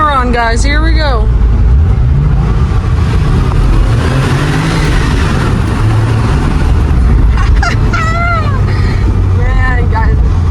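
Engine and induction noise of a 1997 Porsche 993 Turbo S on a tunnel run, a loud steady drone with rising revs, while people talk over it at the start and near the end.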